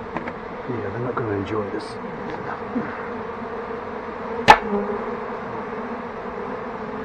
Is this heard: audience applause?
no